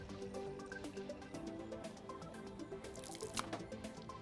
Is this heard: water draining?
yes